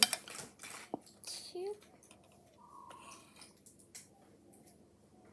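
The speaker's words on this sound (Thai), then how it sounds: "ใส่แล้วก็คนกัน" A spoon stirring sweetened condensed milk into a hot Milo drink in a glass or cup, giving scattered light clinks and taps against the sides, close and fairly quiet, with a voice speaking briefly.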